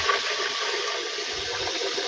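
Tap water runs into a G2.6 blender jug as it is rinsed, making a steady, close splashing rush that barely changes from start to finish.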